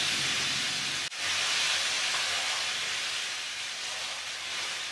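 Zucchini noodles and tomatoes sauté in a hot pan, giving off a loud, steady sizzle that dips briefly near the start and then hisses on evenly, with no talking.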